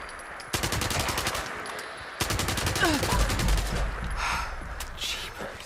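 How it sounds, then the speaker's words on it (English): Bursts of automatic weapon fire in Fallout 76, loud and rapid, running in two long strings with a short break between them and a faint voice underneath. "I'm not used to using automatic weapons."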